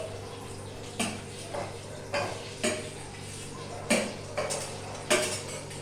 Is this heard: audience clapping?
no